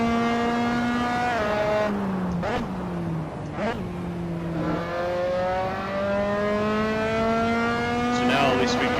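A Dallara F3 open-wheel race car in Assetto Corsa holds a steady, close engine whine that climbs through the gears, with two short dips where it shifts down and a fresh surge near the end.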